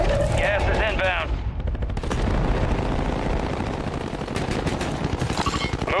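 Rapid gunfire bursts crackle in a Warzone video game battle, fairly loud and repeated, with people talking over parts of the shooting.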